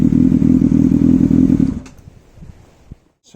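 Motorcycle exhaust with a cheap blockable baffle fitted, running at a steady throbbing idle for under two seconds before cutting off, followed by quiet clatter and small knocks.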